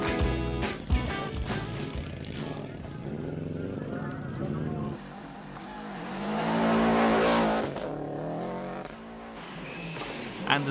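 Subaru rally car setting off on a 1995 Lurgan Park Rally stage, its engine revving and rising in pitch over crowd and commentary, loud and close, with a surge of acceleration midway.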